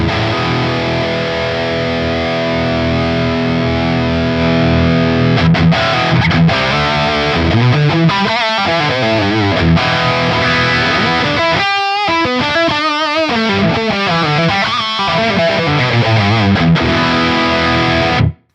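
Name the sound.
distorted electric guitar through Line 6 Metallurgy Vitriol amp model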